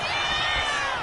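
A loud arena crowd in the WWE 2K25 wrestling game roars and cheers steadily throughout, a dense wall of voices with no commentary over it.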